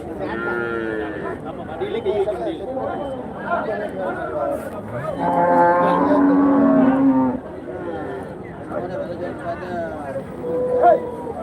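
Cattle moo repeatedly, several long low calls overlapping, over a constant murmur of people talking at a busy outdoor cow market in Karimangalam as cattle are unloaded.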